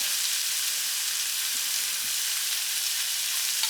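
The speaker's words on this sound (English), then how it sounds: "Drizzle 1 tablespoon of olive oil and add in 2 Italian sausages that are cut up." Cut-up Italian sausages sizzle and fry in a tablespoon of olive oil in a pan, a steady, close hiss and crackle that stays even throughout with no talking.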